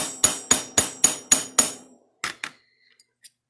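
A hammer strikes a metal whale tail pendant, made from a spoon, in six sharp, evenly spaced blows, then two lighter taps and a couple of faint ticks, close and with no talking.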